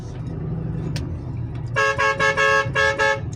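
Car horn honking on a mountain road, sounding as a run of five loud, closely spaced blasts that rise over a steady background rumble of engine and traffic.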